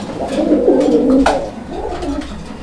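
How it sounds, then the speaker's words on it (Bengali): A pigeon from a master pair coos in a notably deep, thick voice, two low drawn-out calls close by with a short pause between them. "সাউন্ডটা মোটা সাউন্ডের কবুতর, হ্যাঁ মোটা সাউন্ড দেখেন"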